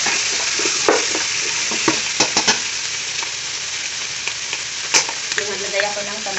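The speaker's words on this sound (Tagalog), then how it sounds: "Haluin lang natin hanggang mag-purple siya sa ating mga lamas." Ube mixture is stirred in a frying pan for kare-kare, producing a continuous frying sizzle broken by irregular scraping strokes and sharp utensil clicks, fairly close and with no talking.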